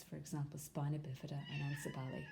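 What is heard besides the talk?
cat meowing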